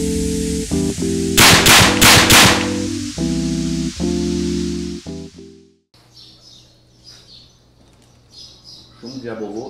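A Caçadora+ 9mm air rifle with a 12-inch rifled 8.9 mm barrel, charged to 250 bar, fires 80-grain diabolo pellets on its lowest power setting: a series of sharp, loud cracks close by, mixed with low tones and followed by outdoor ambience and birdsong.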